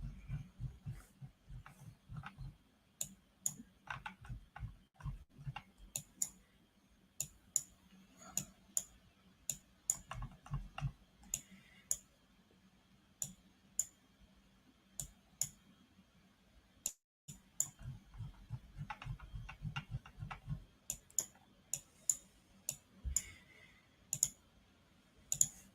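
Keyboard keys clicking in quick irregular bursts at a trading desk during a live stream, close and fairly quiet, with scattered single taps and short pauses and no talk.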